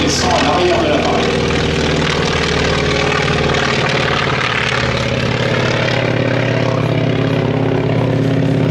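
A North American T-28C Trojan propeller aircraft at an air show, its radial engine droning loud and steady with a throbbing low rumble throughout; someone talks over it.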